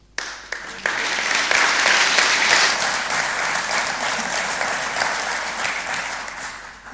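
A hall audience at an election hustings in Wokingham breaks into applause after a few scattered early claps, the clapping swelling loud and then holding steady before slowly tapering.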